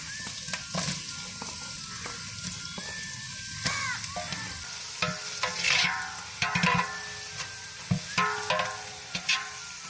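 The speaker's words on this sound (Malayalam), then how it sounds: "സവോളയും പച്ചമുളകൊക്കെ നല്ലോണം വഴന്ന് ഇട്ടിട്ടുണ്ട്." Onions and green chilies with salt sauté in a pan for Kerala-style beef dum biryani, a continuous close sizzle with scraping stirs and clinks growing busier toward the end, no talk.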